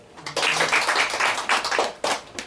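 A church congregation claps together in a brief burst of irregular, close, moderately loud hand claps, without talk over it.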